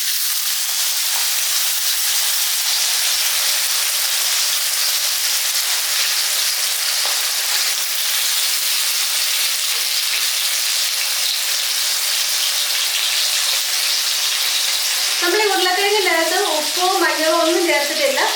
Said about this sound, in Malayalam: അപ്പം നമുക്കിനി ഈ എണ്ണയിലേക്ക് നമുക്ക് ആദ്യം തന്നെ നമ്മുടെ ഉരുളക്കിഴങ്ങ് ഇട്ടു കൊടുക്കാം